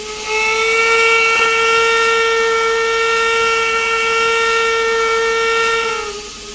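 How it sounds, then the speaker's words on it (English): One long, loud single-chime steam whistle blast from a 4-6-0 locomotive in Trainz Railroad Simulator, with a clear tone that holds steady for several seconds, then cuts off. "Actually a new single chime whistle."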